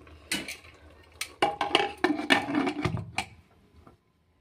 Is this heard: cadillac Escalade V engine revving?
no